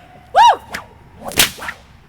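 A whip cracks sharply several times in quick succession at a wedding whip show, with loud snapping hits and airy swishes between them.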